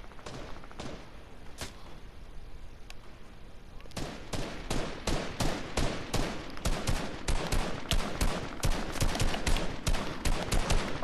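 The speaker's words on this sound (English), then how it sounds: "Why are people shooting already?" Gunfire in Fortnite ahead of the Star Wars live event: scattered shots at first, then rapid repeated bursts growing louder and denser, with players talking over it.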